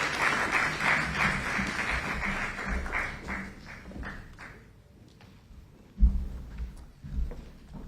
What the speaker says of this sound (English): Can we please give him a round of applause as he takes over?